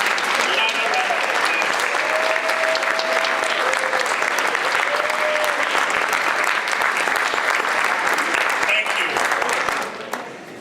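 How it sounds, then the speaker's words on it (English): A loud, steady round of applause fills a community breakfast hall, dense clapping from a large crowd sustained for about ten seconds before tapering off, with a few faint voices mixed in. "Yes, a louder round of applause."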